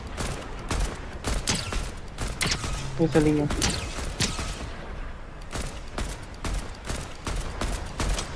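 Steady gunfire from an online battle-royale shooter game, sharp shots crackling in irregular bursts throughout, with players chatting over the shooting.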